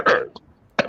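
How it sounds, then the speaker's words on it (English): Two separate coughs, close and fairly loud, one at the start and another near the end with a faint click between, cutting over a podcast-style discussion. "Can you cough over it some more?"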